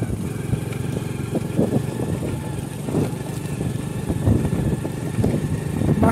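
A motorcycle rides along a road in open, green countryside, its engine giving a steady low rumble with wind-buffeted noise and small bumps.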